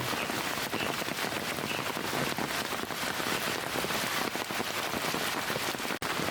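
Rain falls steadily on nearby surfaces, a dense continuous patter of drops at close range, loud and unbroken, with no voices.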